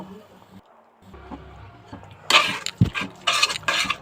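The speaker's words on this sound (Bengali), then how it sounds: "তো ভালো করে মশলাটা একটু কষিয়ে নেব।" Spices for a curry are stir-fried in a pan, with a faint sizzle giving way to loud scraping and clattering of a utensil against the pan in irregular bursts near the end.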